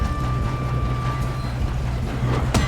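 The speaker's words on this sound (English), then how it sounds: "We have to stop this train." Train in the Western video game Red Dead Redemption II, a steady low rumble and rolling drone with a faint high tone, heard close and continuous with a brief clank near the end.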